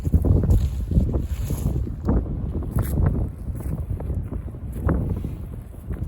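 Strong wind gusts outdoors on a hike, buffeting the microphone in loud, rumbling bursts that rise and fall over several seconds.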